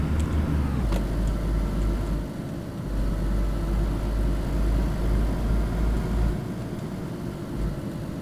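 A car engine in the video game DayZ lugging in second gear, a steady low rumble that dips and swells slightly with no voices over it.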